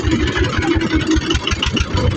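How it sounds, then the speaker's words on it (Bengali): A trawler boat's engine starting up on a river trip on the blue water of Lalakhal in Sylhet, a loud, steady low chugging with regular rhythmic pulses close by and no voices over it. "এই তো আমাদের ট্রলারটা স্টার্ট দিচ্ছে"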